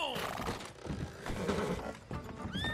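A horse in Red Dead Online whinnies with a high, wavering cry amid clattering game sounds and mechanical clicks.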